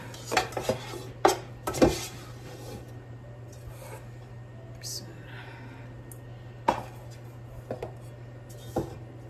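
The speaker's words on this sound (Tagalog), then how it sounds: "Ang hirap gamitin itong malaking kaldero. Ang bigat maghugas ng rice." Scattered metallic clunks and scraping as rice is washed inside a large, heavy cooking pot, with irregular knocks and rubbing of grains against the sides, fairly close.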